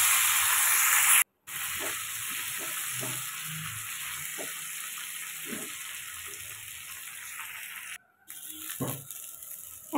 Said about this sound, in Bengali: এখন দিয়ে দিচ্ছি আমি বেগুন আর আলু, দিয়ে আমি 5 মিনিট মতো কষিয়ে নেব ভালো করে।